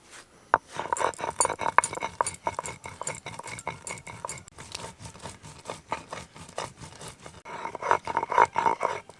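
Three green chillies and a spoon of cumin are ground together by hand, giving a series of rhythmic scraping and grinding strokes with occasional sharp clinks, close and fairly quiet.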